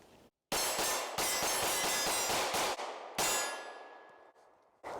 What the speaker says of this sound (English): what I want to do is just shoot some rounds at it, shoot it kind of quickly